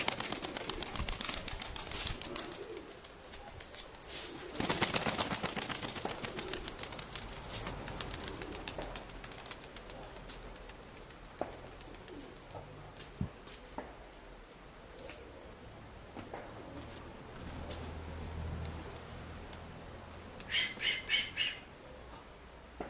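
Pigeons in a keeper's loft coo and flutter, with scattered squawks and soft calls over a busy background of rustling and wingbeats, louder bursts near the start and a cluster of sharp chirps near the end.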